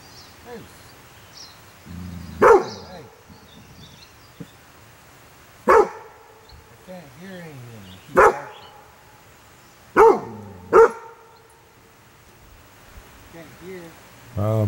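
A young dog barks out in the woods near a gold prospecting camp, single sharp barks spaced a few seconds apart over a quiet outdoor background, moderately close, with faint talk in between.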